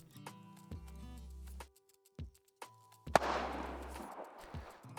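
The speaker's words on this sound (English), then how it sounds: "on my tails I have this kind of popping sound that already sounds kind of distant" A designed gunshot tail element plays, a distant popping burst with a rough diffuse decay lasting about a second, following a few tonal electronic tones and clicks in an otherwise quiet stretch.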